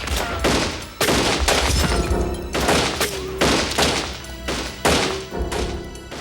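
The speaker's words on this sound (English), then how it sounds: "20 rounds ricocheted through the small store in a matter of seconds." Gunfire in a re-enacted robbery shootout inside a small auto license tag agency store, about 20 rounds: repeated loud, booming shots come in rapid clusters across the whole stretch, with ringing tones underneath.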